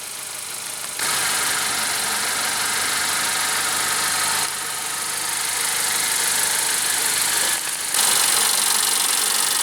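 A 2015 Honda CR-V Touring's 2.4 L four-cylinder engine idles steadily, a close, even broadband hum with slight shifts in level and no voices.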